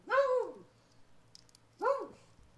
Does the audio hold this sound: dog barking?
yes